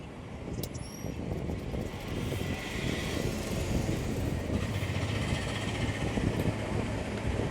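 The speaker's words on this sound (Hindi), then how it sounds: "नेक के किनारे किनारे पे मैं और एक सिलाई कर रही हूँ" A sewing machine stitching steadily along the neckline of a princess-cut blouse, a continuous close whirring drone that holds evenly throughout with no pauses or voices.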